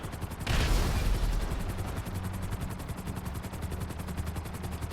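Rapid automatic gunfire in the video game GTA V rattles in a fast, even rhythm, with a heavier burst near the start and sustained loud shooting after it.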